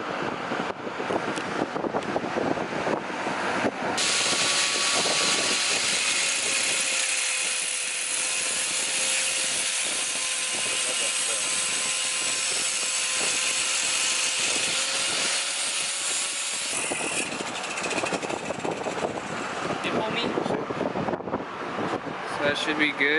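A power tool cuts a piece off near the intake manifold of a Nissan G35, giving a steady loud whining drone with a faint tonal hum that runs for about thirteen seconds before it stops and the background noise returns.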